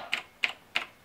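Three crisp key presses on a 1991 mechanical keyboard, evenly spaced clicks, close and fairly quiet in a still room.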